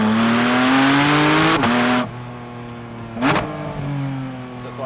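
A 2024 Porsche 718 Spyder RS with a naturally aspirated engine revs hard and close up, its pitch climbing steadily through two quick gear shifts. Each shift brings a sharp dip and a burst of intake noise before it pulls again.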